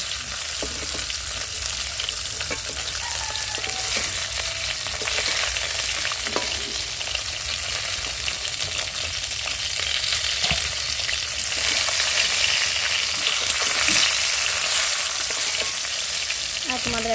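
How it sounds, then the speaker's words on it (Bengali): Fish sizzling and spitting in hot oil in a pan, a continuous loud crackling fry with occasional scrapes and stirs, close by and without talk. "এদিকে মাছ ভাজাটা হয়ে গেছে"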